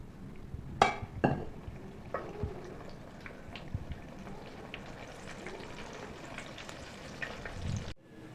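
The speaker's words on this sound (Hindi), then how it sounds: "अब मैं काबली चने तलती हूँ" Kabuli chickpeas fry in hot oil for mixed nimko, a steady soft sizzle with a few clinks of a utensil against the pan near the start, close and alone.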